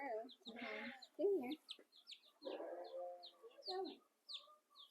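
Chickens, including hens, cluck and chirp close by on a farm in short, uneven bursts, with a few sharp peeps scattered between them.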